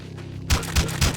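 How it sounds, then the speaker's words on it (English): Explosions in the video game Crossing Souls, three quick booming bursts with deep thuds in fast succession after a brief quiet lead-in. "We could get a better explosion than that."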